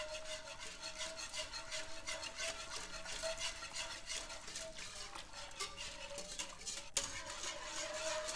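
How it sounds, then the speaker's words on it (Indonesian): Cheese sauce is stirred in a pot, producing a continuous soft scraping and swishing rhythm, fairly quiet and steady, with one brief sharp knock partway through. "Setelah itu kita aduk rata ya."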